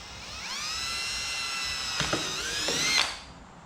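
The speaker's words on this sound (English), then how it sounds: "we're going to drill the holes" A power drill boring holes into metal on a 2007 Yamaha YFZ450 SE ATV, a steady close whine with pitch dips and a few sharp bites as the bit catches near the end, no talk.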